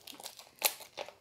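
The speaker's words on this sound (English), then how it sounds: "I've only opened up a couple of new cassette tapes in my day." Plastic wrap crinkling and tearing as a brand-new cassette tape for a Timex Sinclair 1000 is unwrapped, with soft rustles building to a sharp crunchy rip near the middle and another crinkle after, close and fairly quiet.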